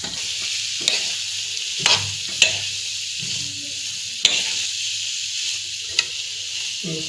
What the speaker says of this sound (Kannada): ಸ್ವಲ್ಪ ಹೊತ್ತು ಫ್ರೈ ಅದು ಚೆಂದ ಬೇಯಬೇಕು